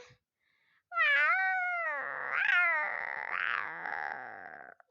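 A lone cat meows up close, starting with a rising cry that flows into a long, wavering yowl, loud and clear over a quiet background.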